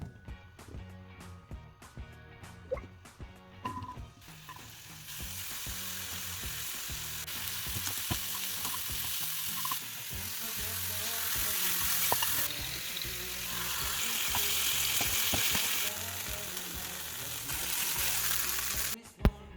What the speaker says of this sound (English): saute it until the mushrooms have gone soft